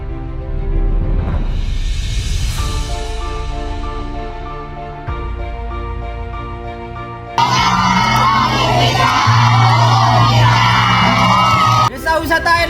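A crowd at a village youth pioneer competition event in Indonesia cheers, whoops and shouts loudly, with music-like tonal layers beneath and a louder surge of cheering in the second half.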